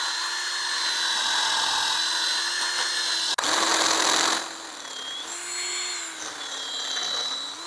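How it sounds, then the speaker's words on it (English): Power drill with a paddle bit boring into a wooden fence post for a lag bolt, a loud steady whine that dips in pitch under load, cuts out briefly, then resumes and grinds on. "we're going to go ahead and drill a hole for that lag bolt"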